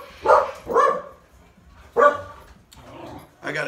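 Dogs bark at people walking by, loud, close woofs in an irregular cluster of three or four barks with short gaps between them, followed by a whiny yip at the end.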